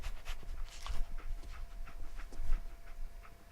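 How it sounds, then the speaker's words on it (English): Dogmeat, the German Shepherd companion in Fallout 4, pants softly with a faint whimper. Light rhythmic breaths and small footstep-like taps sit under low game ambience, with no voices. "Dog meat. Get the scent, boy."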